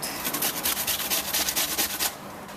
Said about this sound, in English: So this is just a cooking apple, and I'm just going to grate it, peel and grate it.